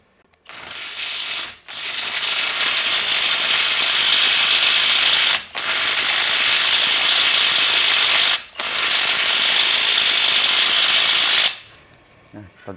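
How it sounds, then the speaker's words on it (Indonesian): Impact wrench with a Premier HL socket tightening a bolt tested to 500 Nm, three long, loud hammering rattles close by, each several seconds long and separated by brief pauses. "Saya akan kencangkan dengan menggunakan impact current."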